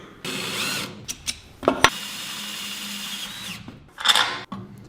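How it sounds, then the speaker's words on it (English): A milling machine cuts a special mounting plate, a steady whining machining drone running for a few seconds with brief sharp clicks and bursts at the start and a short louder burst near the end, close and with no talk. "A bit of quick work at the mill and this part is ready."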